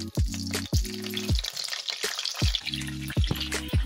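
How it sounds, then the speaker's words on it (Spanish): Tomatoes frying in hot oil in a pan crackle and sizzle steadily, punctuated by several sharp pops and short tonal clicks from the pan. "Vamos a echar los tomates."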